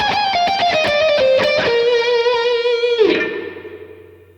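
An overdriven electric guitar plays a fast, classical-leaning phrase, with quick picked notes settling into a sustained bent tone that rings out and decays, no talking.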